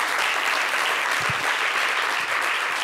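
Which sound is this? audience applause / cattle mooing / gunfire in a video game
audience applause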